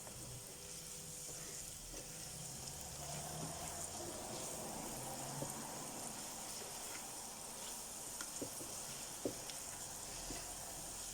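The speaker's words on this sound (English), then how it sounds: "caramelise these onions" Onions caramelise in a pan for a Portuguese bean stew, giving a soft, steady sizzle that runs throughout with a few faint clicks and taps of stirring.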